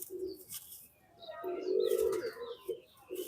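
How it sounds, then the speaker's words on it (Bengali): Pigeons in a loft coo in low, rounded bursts close by, with a few higher chirps and calls scattered between them and no voices. "বেশিরভাগ গুলি পায়রাই দেখতে পাচ্ছি এইখানে আছে"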